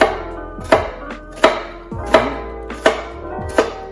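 A knife slicing diagonally through food on a cutting board, five evenly spaced sharp chopping strokes about every three quarters of a second, close and crisp with no voices.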